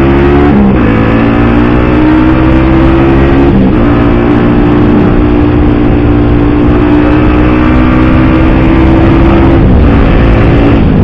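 Motorcycle engine with a closed exhaust revved hard at a red light, loud and close, a sustained droning roar with a few quick throttle blips, no voices.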